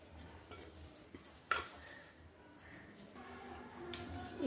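Cooked poornam filling is scraped from a pan onto a ghee-greased plate, with quiet metallic scrapes and a few sharper clinks of the spoon against cookware, low and close.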